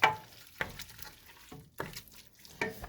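Raspberries are stirred in a pot while cooking down for rye-spiked jam, giving a few wet, sloppy scraping strokes with a soft sizzle of heating fruit between them, close and moderately loud.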